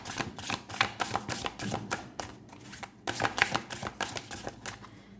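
Oracle cards being shuffled by hand, a run of soft, quick riffling flutters and taps close by, with short pauses between bursts.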